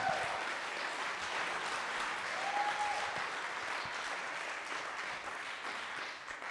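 A crowd at a sober open mic night keeps up steady, moderately loud applause for a performer named Stone, a continuous patter of many hands that eases slightly at the close.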